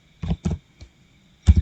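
Four separate, close, soft clicks on a computer keyboard, in an uneven rhythm with pauses between presses, over near silence and without any talking.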